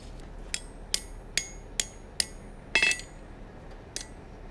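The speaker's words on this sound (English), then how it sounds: "We'll fix that at the anvil this time. We'll just heat up this corner and give it a couple taps." A hammer taps a heated metal corner on an anvil, giving six or seven sharp ringing strikes at a steady pace, close and clear in a quiet workshop.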